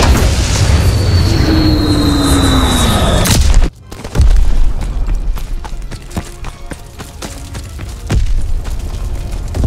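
A bomb explosion in Call of Duty WWII multiplayer: a sustained loud roar and rumble that cuts off abruptly, then a heavy boom followed by scattered debris clatter and further impacts.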